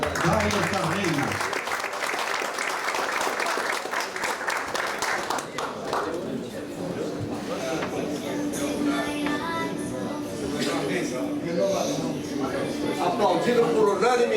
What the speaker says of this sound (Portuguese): Aplaudido por unanimidade,